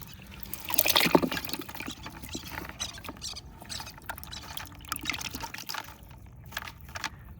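Fresh river fish are tipped out of a cloth bundle. A wet, splashy burst comes near the start, then softer trickles, drips and rustling continue close by.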